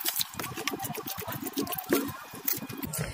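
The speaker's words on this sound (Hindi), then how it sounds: "अब इनके अंदर मैं पहले थोड़ी सी वाटरिंग कर देती हूँ" Water poured onto freshly filled soil in plant pots before transplanting marigolds, a close, steady trickling and splashing that runs continuously for a few seconds with no talk.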